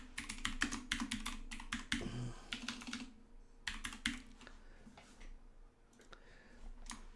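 Rapid typing on a computer keyboard, bursts of close, crisp key clicks broken by short pauses, with no talking.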